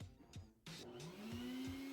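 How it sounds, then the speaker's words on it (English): A vacuum used for dryer vent cleaning switches on after a few soft knocks, becoming a loud, steady close roar with a whine that climbs in pitch as the motor spins up. "Hold it, turn the vacuum back on."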